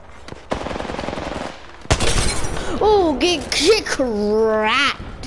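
Gunfire from the Apex Legends video game rattles in a rapid automatic burst, then cuts off and gives way to excited, high-pitched voices talking over fainter battle noise.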